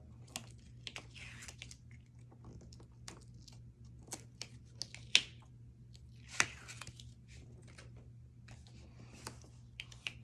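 Tape being peeled off paper in a crafting project, faint intermittent tearing and crinkling with sharp ticks and longer rasps spread across a quiet stretch, close and without talking.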